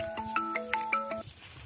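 A mobile phone ringtone for an incoming call plays a quick chiming melody of about six bright tones, fairly quiet, then stops, with no speech.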